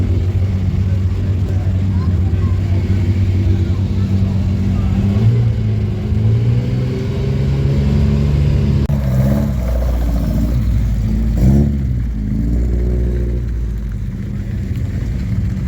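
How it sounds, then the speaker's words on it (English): Racing cars at Brooklands Motorsports Day, with engines droning steadily and loud, swelling and revving as they go round the circuit, while people talk nearby. "So I did get some footage of the cars racing round."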